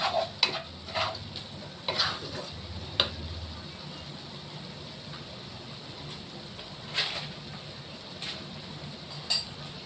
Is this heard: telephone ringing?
no